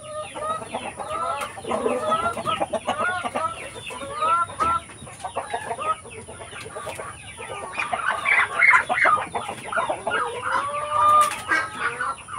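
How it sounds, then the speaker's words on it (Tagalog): Several native chickens cluck and chatter continuously, a busy flock of large birds close by on a farm, with occasional louder squawks and a steady background hum. "Magugulo tong mga manok na malalaki."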